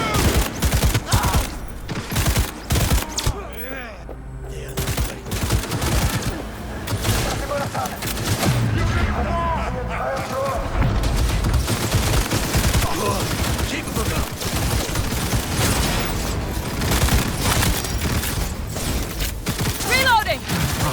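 Gunfire in the video game Cyberpunk 2077: dense, loud bursts of automatic shooting and impacts that carry on for the whole stretch, with game voices and action noise mixed in.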